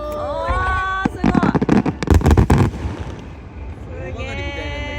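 Fireworks burst at the Noshiro port festival at night, a rapid volley of sharp bangs and crackles in the middle, with people talking and exclaiming before and after the volley.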